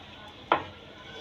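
Chopped tomato, onion, chilli and capsicum drop into browned chicken frying in a pan for shashlik, one short sharp hiss-and-clatter burst standing out above a low steady sizzle.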